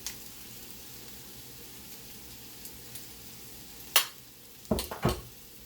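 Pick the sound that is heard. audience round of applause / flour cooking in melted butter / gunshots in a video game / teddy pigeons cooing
flour cooking in melted butter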